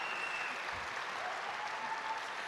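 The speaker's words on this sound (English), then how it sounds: "it feels fantastic to see all this applause" Steady, dense applause from an audience at a university journalism school spring commencement ceremony, continuous and evenly sustained, heard from a distance.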